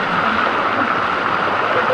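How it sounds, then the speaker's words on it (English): Water pours steadily over the Sticky Waterfall near Chiang Mai, a close, continuous rushing splash with no pauses, heard alone without talk. "just sit next to the waterfall and let it hit your back."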